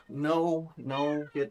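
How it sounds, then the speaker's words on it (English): Two house cats yowl and meow in long, drawn-out wails while fighting indoors in a room, three close, loud tonal cries in quick succession. "my cats were dueling in my room"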